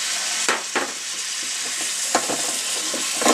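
Pot roast ingredients are stirred in a pot over a steady sizzle, with several scraping strokes of the utensil cutting through the close, constant frying hiss.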